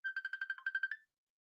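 A short phone ringtone for an incoming call, a rapid run of about a dozen evenly spaced electronic beeps lasting around a second, clear and alone before silence.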